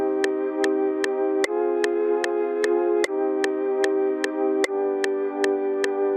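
Sustained synth chords of a drill-reggaeton beat made in FL Studio shift every couple of measures while sharp, evenly spaced metronome clicks tick steadily underneath, no voices.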